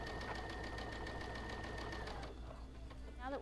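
A sewing machine runs steadily, stitching fabric out to a fold at the edge, its rapid even needle chatter and motor hum carrying close and alone before slowing and stopping near the end.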